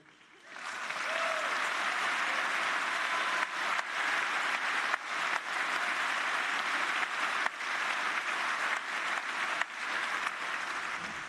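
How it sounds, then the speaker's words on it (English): Sustained audience applause at a public inquiry session fills the room, starting abruptly and holding steady and loud for about ten seconds with no talk over it. "But you're actually applauding the wrong people."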